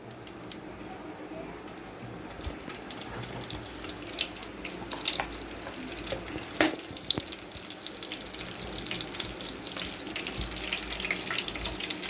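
Mustard seeds and urad dal frying in hot oil, a soft continuous sizzle with scattered faint pops and crackles, fairly quiet and steady throughout.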